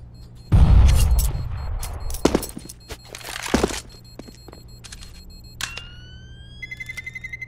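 A flashbang grenade goes off in the Counter-Strike video game with a loud, sharp burst, followed by scattered cracks, clicks and pops of gunfire as the round continues.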